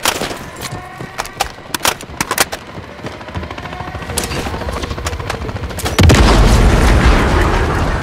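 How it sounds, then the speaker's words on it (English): An enemy helicopter blown apart in Call of Duty: Modern Warfare 3, preceded by scattered sharp gunshots and machine-gun bursts, then a loud, heavy explosion erupting about two-thirds through and rumbling on to the end. "All stations, helo destroyed."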